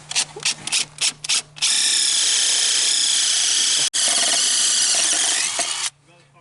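A large power drill with a wood bit whines loudly and steadily for several seconds after a few short bursts, boring into an engine, briefly cutting out once before stopping.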